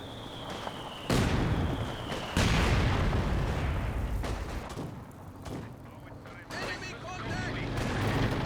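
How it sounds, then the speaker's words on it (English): Mortar shells explode in the WWII strategy game Company of Heroes 2: heavy booms and blasts in loud bursts with rumbling aftermath, mixed with gunfire, while a caster talks over the action. "Oh, and the mortar pit shells dropping."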